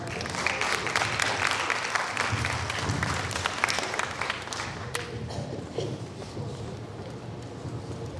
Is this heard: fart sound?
no